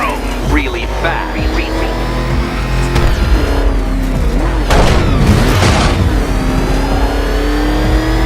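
The Batmobile in Batman: Arkham Knight revs and accelerates loudly, its engine roaring through rising and falling pitch sweeps with booming bursts, all under a game soundtrack.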